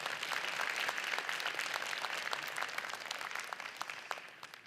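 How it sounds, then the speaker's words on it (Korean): Sustained audience applause at a regional policy forum in Korea, full and even at first and then thinning slightly toward the end, with no voices over it. "수고하신 박원석 지사에게 큰 박수 부탁드리겠습니다"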